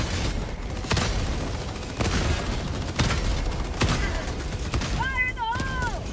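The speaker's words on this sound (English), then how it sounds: "autocannon works great against these devastators" An autocannon in Helldivers 2 fires heavy single shots at a steady pace of about one per second, loud over game noise, with a player's voice heard between rounds.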